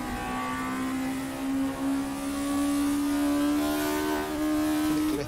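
VW Scirocco Group 2 race car in a racing video game at Brands Hatch, its engine droning steadily and loudly as it accelerates, the pitch climbing slowly throughout with no voices.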